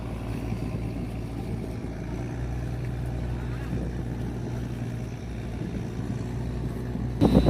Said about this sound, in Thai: วิ่งจะแรงสักหน่อยเพราะว่าเรือวิ่งกันฝักไฟเลยนะคะท่านผู้ชม